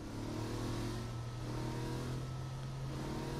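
A car engine revving steadily in Saints Row: The Third, with a constant mid-pitched drone held at an even, close loudness throughout.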